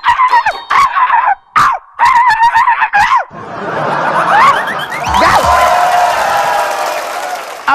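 Comedy performers on a stage imitate dogs, letting out a rapid series of loud, close, yelping barks in short bursts, followed by a crowd laughing and cheering at length.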